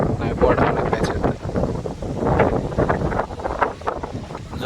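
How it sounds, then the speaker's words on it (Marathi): Cold wind gusts across the microphone beside a loaded truck on an open road at dusk, a steady broadband rush with buffeting swells and no clear talk. "गार वारं सुटलं एकदम."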